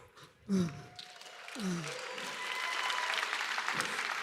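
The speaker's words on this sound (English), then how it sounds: "I think we need a louder round of applause." Faint audience applause at an onstage conversation with astronaut Buzz Aldrin swells gradually after a couple of brief vocal sounds, building into a soft, steady patter of distant clapping.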